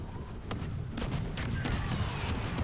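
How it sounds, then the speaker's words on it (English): Blaster gunfire striking a wall in a Star Wars video game, a quick series of sharp cracks and impacts over rumbling battle noise, moderately loud. "I guess if they're shooting at the wall"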